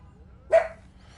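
A single short dog bark in a home, sharp and fairly close, standing out against quiet background hum.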